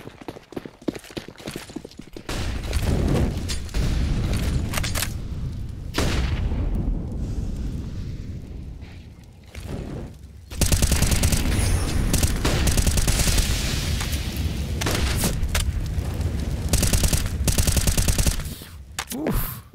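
Rapid gunfire rattles through a Counter-Strike match on the Inferno map, dense bursts and single shots coming in waves, fairly loud with little talk over them.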